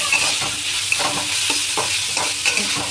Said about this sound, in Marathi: जरा भाज्या परतून घेऊया